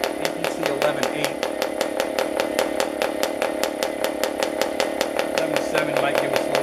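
A PAW diesel model aircraft engine, a 40 size swinging an APC 11.8 propeller at about 9,000 RPM, runs flat out with a loud, steady, high-pitched buzzing drone that never lets up from start to finish.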